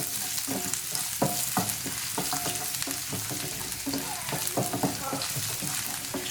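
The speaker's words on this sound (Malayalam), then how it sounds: "നന്നായിട്ടൊന്ന് ഇളക്കി കൊടുക്കാം." Chopped garlic stirred in a pan over a high flame, a steady loud sizzle of frying broken by repeated scraping clatters of the spatula against the pan, close by with no talk.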